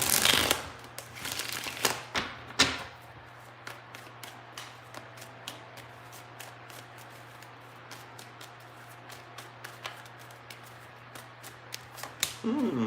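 Tarot cards are shuffled by hand, giving repeated soft riffling and tapping close by. A low steady hum runs beneath them and a voice speaks quietly at moments.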